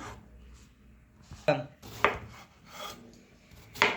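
Eggplant, potato and cauliflower being cut with a knife in a home kitchen, giving a few sharp scraping chops and rasping slices at irregular intervals, close and fairly quiet, with no talking.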